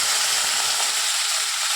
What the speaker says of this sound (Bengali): এবার দেখুন আমি মাছটা দিয়ে দেবো।